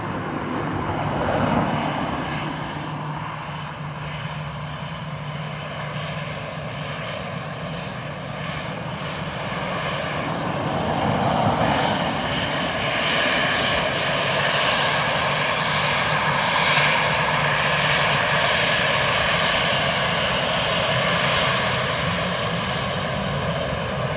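A Ryanair jet on approach to runway 28 left at Dublin Airport, its engine roar broad and steady at a distance, swelling slightly in the second half as it nears touchdown.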